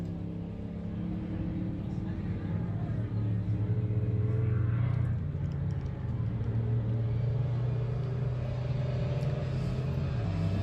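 Ultra 4 off-road race car engine at the 2024 Wild West 100 in Columbus, Montana, sputtering with a steady low rumble throughout, heard from a distance alongside a commentator's voice.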